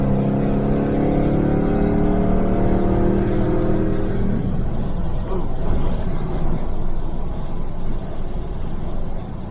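A 1968 Chevelle Nomad with an LS engine and open exhaust accelerates hard, its loud rising roar sweeping up through the gears before settling into a rough, steady drone, close and without talk.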